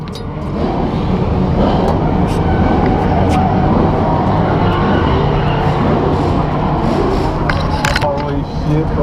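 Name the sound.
Nissan S15 drift car driving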